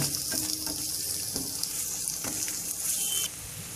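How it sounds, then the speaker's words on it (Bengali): Garlic, onion and four dried chilies fry in mustard oil in a wok, giving a steady, close crackling sizzle with a few stirring scrapes and a slight drop in intensity near the end. "এবার আমি কড়াইতে সরিষের তেল দিয়ে দিচ্ছি রসুন পেঁয়াজ ভেজে নেওয়ার জন্য"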